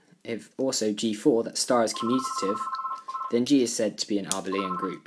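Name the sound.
mobile phone ringing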